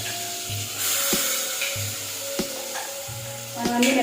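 Whole masala spices crackle and sizzle in hot oil for a chicken curry, a steady close frying hiss with a few sharp stirring knocks against the pan.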